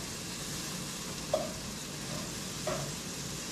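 Diced onions sizzle steadily in a hot pan, making a constant bright frying hiss. A couple of brief metallic scrapes come from the onions being tossed, and no one speaks.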